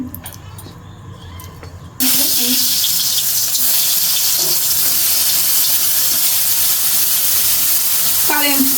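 Oil hitting a hot kadai bursts into a loud, steady sizzle that starts abruptly after a quieter moment and keeps hissing evenly to the end, with brief voice sounds in the background.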